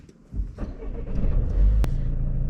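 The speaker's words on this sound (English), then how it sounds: "so start the engine." Car engine cranking and catching close by, settling into a steady low idle rumble.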